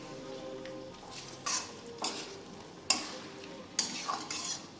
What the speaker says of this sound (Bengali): এবার ভেজে নেব আলুর সাথে। টমেটো কুচি, লঙ্কা সব দিয়ে দিলাম